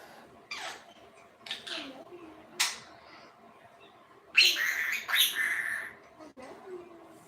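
An Indian Ringneck parrot gives scattered short chirps and squawks, then a louder, harsher run of calls near the middle, with quiet gaps between and no clear speech.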